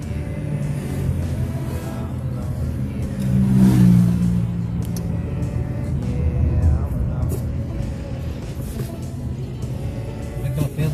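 A car drives a detour around rocks near the beaches of a coastal district in Rio de Janeiro state, its engine a steady, close low rumble that swells briefly, with voices talking over it.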